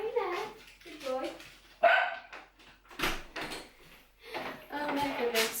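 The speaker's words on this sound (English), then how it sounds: "Vinny, why do you always have to bark?" A dog barks several times nearby in short separate bursts, mixed in with a person talking indoors.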